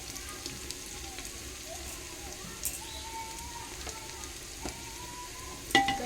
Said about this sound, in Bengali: পেঁয়াজটা মোটামুটি আমার ভাজা করা হয়ে গেছে। এবার এর মধ্যে আমি দিয়ে দেবো টমেটো।